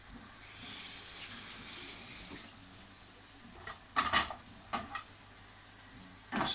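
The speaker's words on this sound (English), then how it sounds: "Stir that in." Salt gets stirred into a cannelloni sauce, a soft wet scraping and sloshing with a few sharper clinks of the spoon against the pan, quiet and close.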